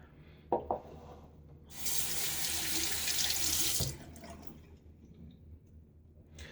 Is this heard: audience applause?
no